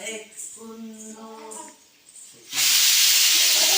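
A pressure cooker whistle lets loose a loud, close, continuous hiss of steam that bursts in suddenly after someone sings, then holds steady to the end.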